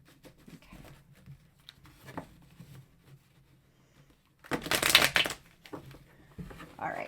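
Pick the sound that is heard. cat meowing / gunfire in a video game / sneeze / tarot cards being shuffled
tarot cards being shuffled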